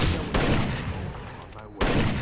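Gunfire in the video game Rainbow Six Vegas 2, dense rapid shots that blur into a continuous loud roar, with a brief dip before the firing surges again.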